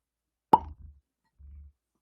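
A synthetic cork pops from a Pinhook whiskey bottle with one sharp, close pop, followed by a soft low rustle and a brief muffled shuffle.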